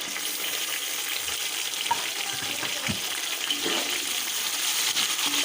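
Two large tomatoes and three lengthwise-cut green chillies frying in a pan for chana pulao: a steady, close hissing sizzle with light bubbling, a few soft taps of a stirring utensil, and no voices.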